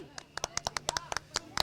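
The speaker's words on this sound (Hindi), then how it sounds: "भैया जोरदार तालियां बजाओ" A crowd applauds at a political rally, giving scattered sharp claps that stay fairly faint and sparse, with about a dozen distinct hand claps over a short stretch.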